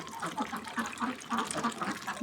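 Several Khaki Campbell ducks quack repeatedly in a quick, uneven chatter, moderately close but fairly soft, with no talking.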